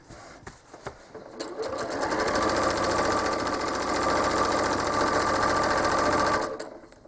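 A sewing machine stitches a quilt, its motor whirring in a fast, steady hum that lasts several seconds. A few light clicks come before it, and it stops abruptly at the end.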